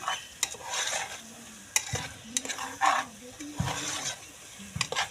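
Spatula stirring a mushroom biryani mixture with tomato in a pan: irregular scraping and clattering strokes over a light sizzle, close and moderately loud, with a couple of sharper metallic knocks.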